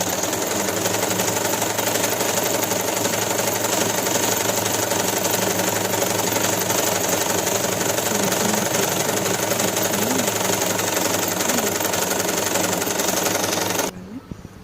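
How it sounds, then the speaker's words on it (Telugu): A sewing machine doing overlock stitching on fabric, running as a continuous close whirring drone with a rapid, even needle rhythm for about fourteen seconds before it abruptly stops. "ఓవర్లాక్ ఈ పెట్టుకున్న తర్వాత స్టిచ్ చేయడం స్టార్ట్ చేయాలి"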